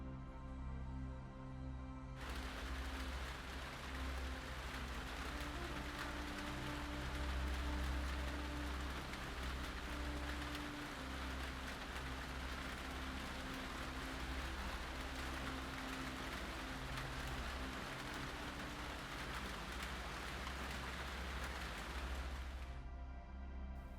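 Steady, heavy tropical rain pours down without pause, a dense even hiss of drops over a low constant hum, fading in and out at the edges.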